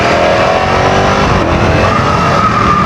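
A 2025 Ducati Panigale V4S motorcycle engine roars loud and close, a dense sustained high-revving drone held near its limiter without pause.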